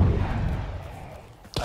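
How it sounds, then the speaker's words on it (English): An immolator explodes in a video game, a deep low thump with a rumbling tail that fades over about a second, followed by a short sharp burst at the end. "I still love the effect of immolator exploding."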